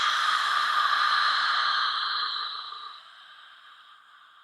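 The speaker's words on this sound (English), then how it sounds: "And exhale." A long, deep breath out through the mouth during kriya yoga breathing, a single loud, breathy exhale heard up close that fades gradually toward the end.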